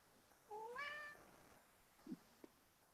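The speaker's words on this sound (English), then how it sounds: "What, cat? You're being very noisy and talkative" A single clear, drawn-out meow from a nearby cat in a quiet room, followed by a couple of soft short chirps.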